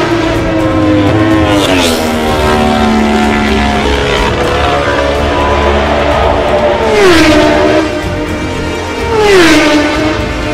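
Kawasaki, BMW and Honda racing motorcycles scream past at the Isle of Man TT road race, loud and close, with engine pitch rising and dropping as several bikes sweep by in succession under faint commentary.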